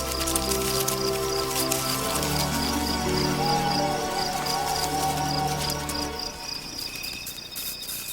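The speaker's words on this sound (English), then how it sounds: "The night is alive with creepy crawlies, Henry, and the animals which hunt them." Nocturnal insects chirp in a dense night chorus, with steady layered trills and buzzing tones close by and continuous throughout, and no voices.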